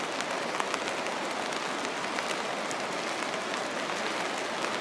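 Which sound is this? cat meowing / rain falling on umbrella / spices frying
rain falling on umbrella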